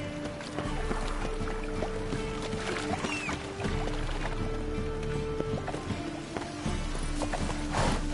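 Horse hooves clip-clop in The Witcher 3 in a steady trotting rhythm, close and fairly clear, over low ambient rumble and faint splashy background sounds.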